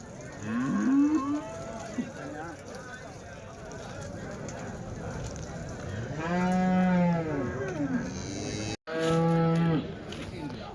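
Cattle and calves at a weekly Sunday cattle market in Chintamani, with two long, loud, close moos around the middle and end, a shorter lowing call early on, people talking and general market bustle behind.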